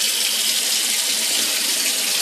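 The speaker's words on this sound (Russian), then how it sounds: "Промываю водой с макаронами." Tap water runs steadily and loudly from a faucet while pasta is rinsed, a continuous close hiss and splash with no pauses.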